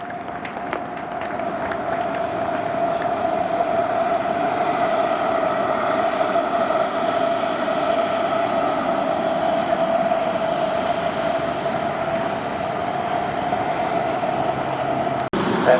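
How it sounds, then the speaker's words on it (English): A Viper model jet at an RC jet rally keeps up a steady, loud turbine whine with a strong sustained tone and a slowly rising high pitch, unbroken throughout with no talk. "folks taking the field right now is a Viper jet"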